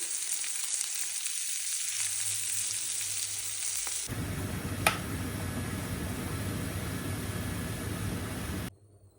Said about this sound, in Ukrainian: Обжарила я реберця і овочі